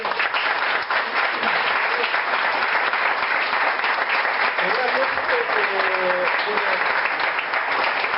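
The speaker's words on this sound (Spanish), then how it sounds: "Un aplauso, por favor" Sustained applause from an audience at a book presentation, loud and steady throughout, with a few brief voices in the crowd.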